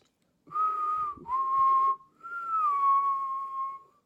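A person whistles in three sustained, clear tones, the first two joined by a quick dip, then a longer gliding note that slowly falls, close and steady against silence.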